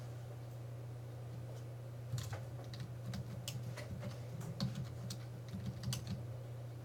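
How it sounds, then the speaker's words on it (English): Rapid runs of keystrokes on a computer keyboard as a row of dashes is typed, close and crisp over a steady low electrical hum, with no talk. "I'm just going to type all the dashes out to about the same length"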